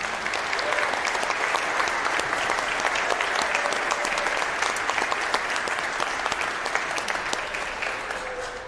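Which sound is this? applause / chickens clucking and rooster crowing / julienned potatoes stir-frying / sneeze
applause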